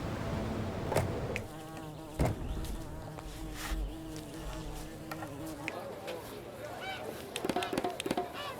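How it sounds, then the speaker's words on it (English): Bees buzz in the city-building game Laysara as a steady insect drone, with scattered sharp clicks and soft pops from the game running through it. "Needs slightly more bees."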